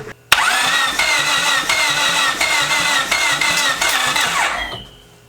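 A Honda car engine cranks briefly, then catches and runs at a steady loud idle, close up for several seconds before cutting off near the end.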